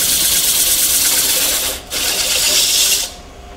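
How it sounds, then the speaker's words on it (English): Sandpaper rubbing the spinning grooves of an off-center wooden tea light turned on a lathe, a loud continuous hiss that drops out briefly midway, resumes, then cuts off near the end. "Kind of have to go through and turn it off and sand each one of the grooves too."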